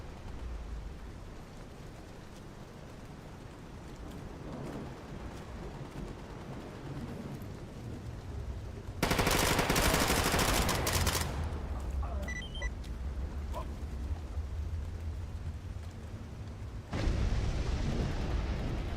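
Gunfire and explosive blasts in STALKER GAMMA: a long, steady outdoor ambience gives way to a sudden loud burst of heavy fire that lingers, followed by a second loud burst near the end.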